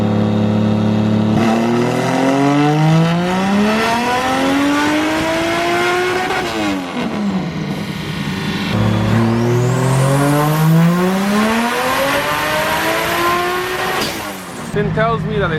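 A tuned Toyota 1.5JZ straight-six with a 3.0 bottom end screams through two rising dyno pulls, the pitch climbing steadily before each drop-off, loud and close throughout.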